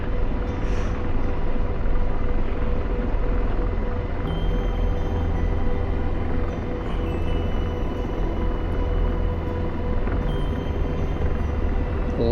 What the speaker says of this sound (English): Yeah, there you go, Chinook. Take off.